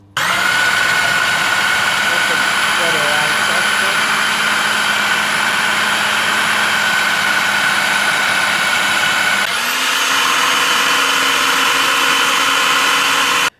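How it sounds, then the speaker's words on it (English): A blender whirring loudly as it purees hummus, a steady high-pitched motor drone that holds for several seconds, then shifts pitch as the load changes before cutting off at the end. "So that's it all blended now."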